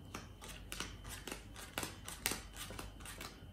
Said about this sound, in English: just take the cards and deal them one at a time.